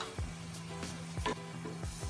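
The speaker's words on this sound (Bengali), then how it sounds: "এখন এই বাটিগুলোর মধ্যে আমরা পোলার চাল দিয়ে দিব।" Polao rice added to oil with fried chopped onions, giving a faint, soft sizzle with light rhythmic stirring taps and scrapes.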